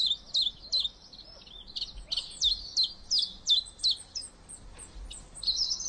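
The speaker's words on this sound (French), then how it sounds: "Ce sont des passereaux insectivores en partance pour le sud, une fois la nidification terminée." Small migrating insectivorous passerine songbirds give repeated high, thin chirps and short twittering calls, fairly faint and irregularly spaced, with no talk.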